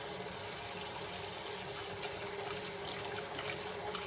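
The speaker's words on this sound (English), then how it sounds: "Now we're going to wash the rice." Water running steadily into a pot of rice for rinsing in a home kitchen, a continuous gushing pour that stays even and close throughout, with no talk.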